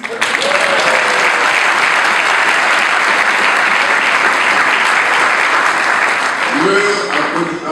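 Frenzied, sustained applause from a large hall audience at a speech event, dense and loud clapping that continues unbroken for several seconds, with a voice briefly audible near the end.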